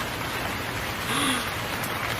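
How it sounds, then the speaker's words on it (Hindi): Heavy storm rain pours steadily as a constant broad hiss, with a faint rising tone briefly passing through the middle. "एक दिन बहुत ज़ोरों से तूफ़ान आ जाता है और बहुत तेज़ी से बारिश बरसती है।"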